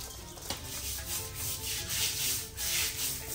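A brush scrubbing an old chicken cage, producing steady close rasping strokes that repeat in a loose rhythm with no talk.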